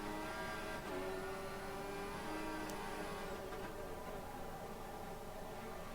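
Williams Formula 1 car engine in the F1 2014 racing game at Abu Dhabi, a steady high-pitched whine held near and loud for the whole stretch, with a brief pitch drop as the car short shifts into fourth gear.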